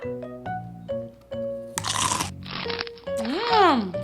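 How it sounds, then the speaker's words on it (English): A crunchy cartoon bite into an apple by a deer, heard as a short loud crunching burst in the middle over bright animated music with tones before and after. "she saw a deer munching on an apple"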